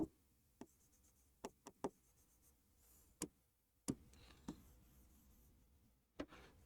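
Marker or chalk taps and short strokes on a classroom board during an accounting lesson, a dozen or so sharp, sparse clicks spread irregularly over quiet background.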